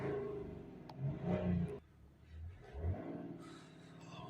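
A BMW 335d diesel engine held near 3,000 RPM during a particulate filter exhaust back pressure check gives a fairly quiet rumble that swells and dips in a couple of rev surges.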